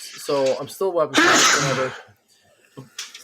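A short vocal intake builds into one loud, close sneeze, followed by quiet breathing.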